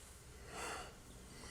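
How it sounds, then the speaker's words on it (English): A person yawning during a late-night podcast recording: one drawn-out, breathy exhale swelling for about half a second, faint and close, with no talking over it. "I don't want to hear you yawn."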